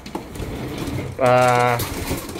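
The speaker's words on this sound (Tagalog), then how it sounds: "So, tingnan natin yung mga young bird natin mga kalapatids." Young racing pigeons, blue check and blue bar birds in a loft, give a single loud, close, droning coo lasting about half a second, with quieter background noise and faint bird sounds around it.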